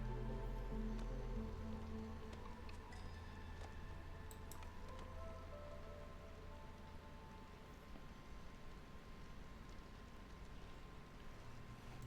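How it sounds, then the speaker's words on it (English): Steady rain falls in the video game Against the Storm, a faint continuous patter with occasional low tones from the game's ambience, no voices. "it is constantly raining here."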